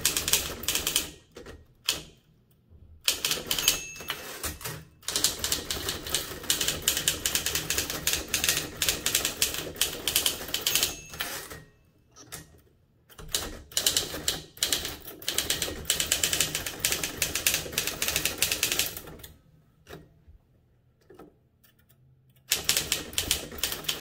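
Rapid, crisp mechanical keystrokes on a Torpedo 18B manual typewriter come in long bursts separated by brief pauses, loud and close with no talking.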